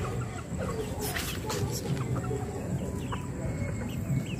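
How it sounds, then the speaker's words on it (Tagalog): Freshly bathed chickens cluck and murmur close by in a pen, with scattered soft calls and rustling over a busy farmyard background. "silipin natin yung mga napaliguan natin na manok"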